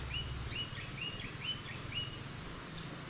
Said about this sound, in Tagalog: Naririnig niyo talaga yung mga ibon.